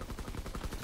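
Rapid automatic gunfire in a shooter video game, a fast steady burst of repeated shots, loud and continuous through the whole short moment.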